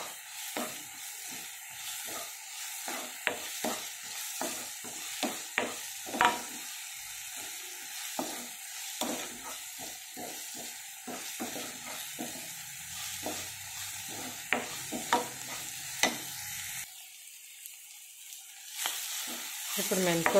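Ginger garlic paste and fenugreek leaves fry in a pan for a brinjal and green peas curry, a steady close sizzle broken by repeated sharp scraping stirs, with a brief quieter stretch near the end.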